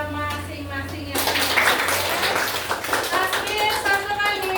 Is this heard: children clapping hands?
yes